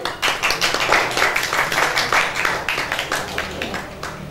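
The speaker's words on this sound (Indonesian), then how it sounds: "Tepuk tangannya." At an anniversary award ceremony, an audience gives a runner-up steady applause: dense, moderately loud hand claps that continue for about four seconds, with faint voices underneath.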